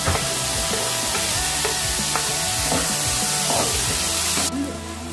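Tomatoes and onions frying together in a pan for uggani give a steady, close sizzle with soft stirring scrapes throughout, and the sizzle drops slightly near the end. No one speaks.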